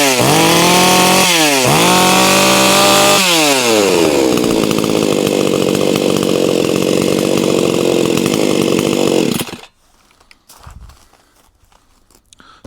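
A cheap 45cc chainsaw revs hard several times with rising engine whines, holds a loud sustained high rev, then cuts out abruptly, leaving faint handling noises.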